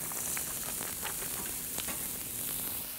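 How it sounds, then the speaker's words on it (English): Butter and onion sizzle steadily on a flat top griddle, a close, continuous hiss with faint crackles throughout and no talking. "Now I'm going to take a lump of butter, put it on the flat top, and on goes my onion."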